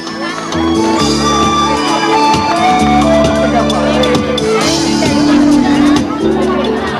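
A crowd at an award ceremony for a farm brigade breaks into steady applause and cheering, loud and continuous, with music and voices mixed underneath.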